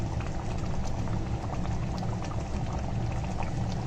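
Raw mustard oil poured into a cooking pan, giving a steady, close, bubbling liquid rush that stays even for the whole stretch, with no voices.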